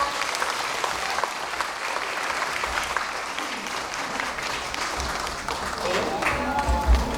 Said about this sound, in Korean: 다 같이 환영의 박수 부탁드립니다.